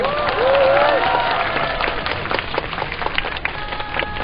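Outdoor applause at a weekly Wednesday rally for Japanese military comfort women survivors: a crowd claps steadily with a few voices rising above, moderately loud and sustained throughout.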